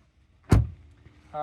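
A single sharp mechanical clunk as the bonnet of a 2023 Skoda Superb 2.0 TSI is popped open, followed by quiet rustling and a brief voice starting at the end.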